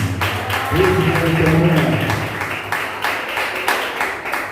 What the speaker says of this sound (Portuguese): As palmas, glória a Deus, coletivo